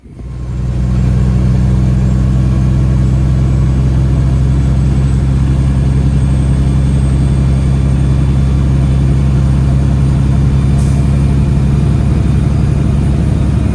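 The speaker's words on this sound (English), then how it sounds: "Truck has plenty of power so far." Peterbilt 379 truck engine rumbling loud and steady as the rig pulls away, a deep continuous drone with no talk over it.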